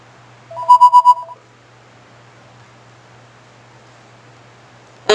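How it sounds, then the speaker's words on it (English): Electronic phone ringtone trilling in four quick rhythmic bursts near the start, clear and fairly loud over a steady low background hum, then silence until a short sharp noise at the very end. "The phone just rang."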